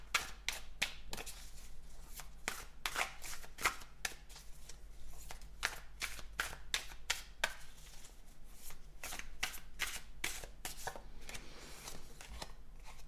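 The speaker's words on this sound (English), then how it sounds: "Okay, now it's time for your tarot cards." Tarot cards being shuffled by hand: a steady run of crisp riffling, flicking bursts close up, repeating irregularly over a low constant hum, with no talking.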